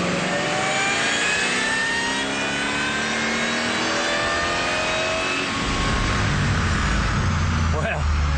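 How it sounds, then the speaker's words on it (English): A 2003–2004 Ford Mustang Cobra with a swapped supercharger pulley roars through a dyno run, its engine holding a loud, steady high-revving drone with rising harmonic whine that swells further near the end. "let's proceed to make another dyno run and see how the pulley swap affects our numbers."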